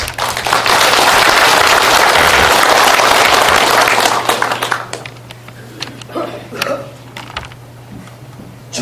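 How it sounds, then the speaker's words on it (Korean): Loud, dense audience applause at a lecture in Gwangju, a continuous roar of clapping that drops off after about four seconds into scattered claps and murmuring voices, with a steady electrical hum underneath. "한 분 한 분 소개할 때 큰 박수로 환영해 주시기 부탁드립니다."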